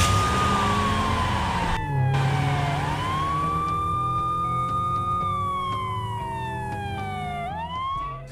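A police siren wails in GTA San Andreas multiplayer, loud and close, its tone gliding up and down in long sweeps with a short break early on and a rising restart at the end.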